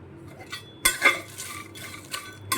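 Coriander panjiri with dry fruit roasting in ghee over a low flame, heard as sporadic scrapes and clinks of a spoon stirring in a pan, with a few louder knocks against the metal and no talk.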